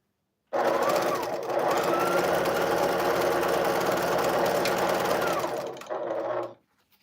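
A sewing machine stitches a table runner pieced from charm packs, running in one steady, loud continuous burst that changes pitch slightly partway through, then stops abruptly with a brief pause before a final short run.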